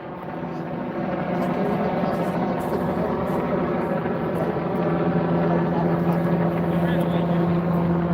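A helicopter flies overhead at night, its engine and rotor drone steady and loud, building in the first second and holding throughout, with faint background sounds.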